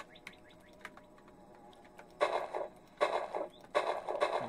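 Birds chirp in modded Minecraft, a scatter of short high tweets early on, then three louder bursts of dense chattering calls close by.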